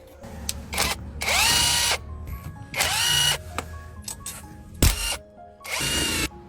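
Power tool driving out screws from the motor of an electric four-wheeler under repair, heard as several separate whirring bursts, each about a second long, with short clanks and pauses between them, close and fairly loud.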